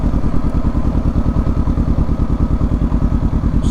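A Kawasaki Versys 650 motorcycle engine runs close and loud, its steady throbbing pulse thumping along without a break as the bike rolls in.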